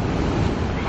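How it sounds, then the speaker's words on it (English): Sea waves crash against rocks at the beach in a loud, continuous roar of surf and spray, with wind buffeting the microphone. "So the waves are crashing on the rocks here."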